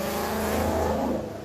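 A car engine roars and revs steadily nearby, a continuous rough mechanical drone that eases off slightly at the end.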